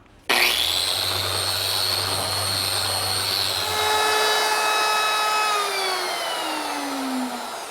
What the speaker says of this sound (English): there's always room for a little sanding with the random orbit sander